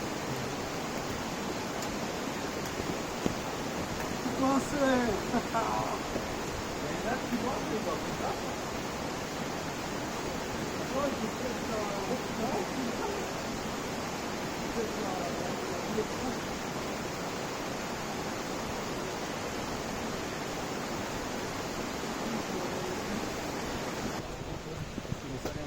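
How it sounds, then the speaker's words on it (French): Cascades de la Wormsa rush in a steady, broadband roar that fills the whole stretch, with brief voices and footsteps faintly mixed in near the start. "Elles sont là les cascades que je voulais vous montrer les gars."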